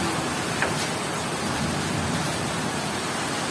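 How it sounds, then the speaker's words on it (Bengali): Heavy rain with cyclone-strength weather pours down at a school, a steady, loud broadband wash of falling water that stays even and unbroken throughout. "ভয়াবহ রকম বৃষ্টি, এক জায়গা থেকে আর এক জায়গায় দেখা যাচ্ছে না।"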